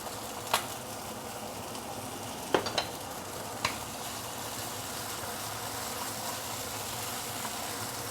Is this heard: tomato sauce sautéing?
yes